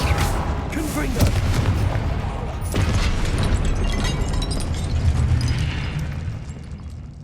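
A Confringo fire-blast spell bursts in Hogwarts Legacy, with several loud booming blasts and crackling impacts over a steady rumble of combat sound and game music, with a voice talking briefly.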